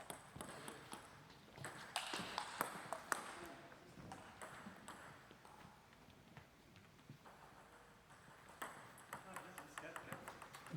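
A table tennis ball is served and rallied during a Division 2 club match, with sharp, bright pings and clicks coming in quick irregular bursts. A voice talks over parts of the play.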